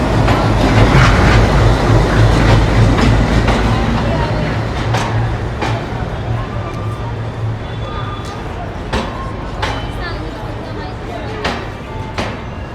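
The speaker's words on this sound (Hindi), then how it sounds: "WDM 3A लोकोमोटिव के साथ ये आ गई अपनी संपर्क क्रांति एक्सप्रेस यशवंतपुर रेलवे स्टेशन के प्लेटफॉर्म नंबर 6 पर" WDM 3A diesel locomotive hauling the Sampark Kranti Express into platform 6 at Yesvantpur station: a loud, steady rumble with low engine drone and clattering wheels, fading slightly as it rolls past, with station noise around.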